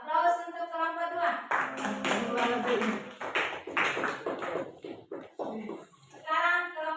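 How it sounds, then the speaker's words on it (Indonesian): Classroom applause for a student group, a dense close burst of hand clapping mixed with children's voices and chatter, fading toward the end as speech resumes. "Aplaus untuk kelompok 2."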